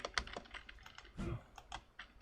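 Computer keyboard typing during a game session, a handful of sharp close key taps in uneven bursts with a brief duller thump midway, quiet overall and no talk.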